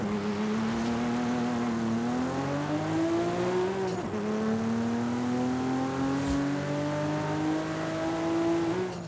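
A Toyota Soarer engine in Forza Horizon 5 revs steadily and loudly throughout, its pitch climbing gradually with a brief dip midway, heard alone with no talk.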